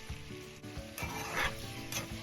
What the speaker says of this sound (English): I like to saute my natural seasonings before I add the other ingredients